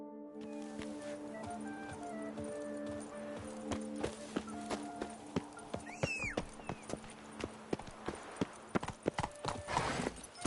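Horse hooves clip-clopping in The Witcher 3: Blood and Wine, a steady close trot with a short whinny partway through, over a soft music bed and with no talk.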